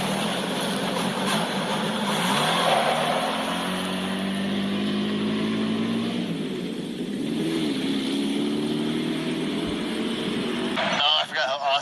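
A classic car with a Ford Pinto 2.3 liter engine drives along, its engine droning steadily and rising in pitch as it accelerates, loud and close under continuous wind and road noise.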